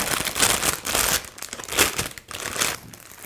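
Plastic wrapping holding floral foam for a vegetable-and-flower arrangement in a wooden box crinkles loudly and close up in repeated rustling surges, with no talking.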